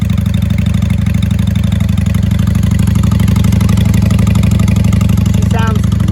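A 1995 Honda Shadow VLX 600 V-twin motorcycle idling nearby, a loud steady throbbing rumble with an even low pulse that holds without breaks, a voice faintly over it near the end.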